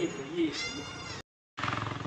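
Goats bleat in a village, a close, wavering cry followed by a shorter burst after a brief silence, with people talking around them.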